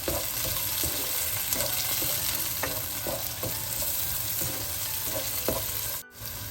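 Green chillies go into a pan of frying onions and spices for a spicy chicken curry, giving a steady close sizzle with repeated stirring scrapes throughout and a brief dip near the end, no talk.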